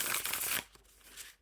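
A deck of reproduction playing cards is riffle shuffled, giving a dense, close burst of flicking card edges for about half a second before it drops to quiet room tone.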